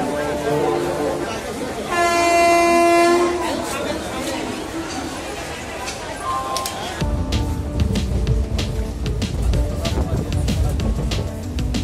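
A local train on the Howrah to Medinipur or Kharagpur line at Khirai station sounds a sustained horn blast, then rolls past with a loud, steady rumble and clatter as people chatter nearby.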